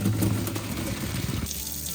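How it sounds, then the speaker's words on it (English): Pasta water pouring out of a pot into a sink, a loud, close, continuous rushing splash that eases slightly toward the end, with no talking. "Now before you drain it, just take some pasta water and reserve it."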